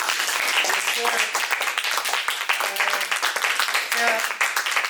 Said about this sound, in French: On peut applaudir nos guests.